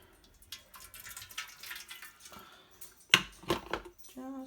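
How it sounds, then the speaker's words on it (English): Hot water trickles and splashes briefly into an oven tray near the microphone, a short pour with drips, amid quiet kitchen clatter and a soft voice. "Just a little bit of hot water there."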